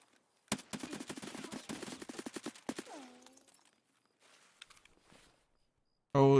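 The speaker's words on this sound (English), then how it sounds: "I was definitely caught off guard by that gunfight" Rapid bursts of automatic gunfire in a night raid firefight in a video game, a dense volley of close, loud shots followed by scattered single rounds and a sudden loud blast at the end.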